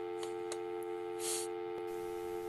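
A telephone left off the hook gives a steady, continuous tone that holds at an even level for the whole stretch, with faint clicks and a brief hiss partway through.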